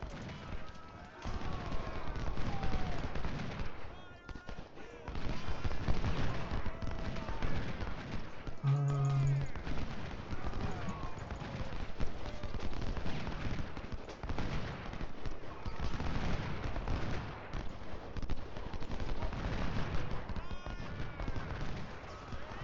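Musket volleys and artillery crossfire in the Civil War strategy game Ultimate General: Civil War, a continuous dense rumble of overlapping gunshots and booms throughout, with someone talking over the battle noise.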